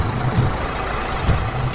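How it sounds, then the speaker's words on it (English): A heavy haul truck engine in a kids construction vehicles app rumbles steadily with a low, loud droning throb and slight surges, with no talking over it. "This is a haul truck. Engine."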